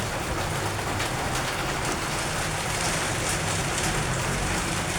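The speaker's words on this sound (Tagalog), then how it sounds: "kasi ang lakas ng ulan" Heavy rain pours down steadily, a dense, loud hiss of drops drumming on a surface with no pauses.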